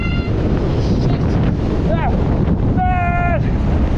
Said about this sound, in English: Man, that wind is insane!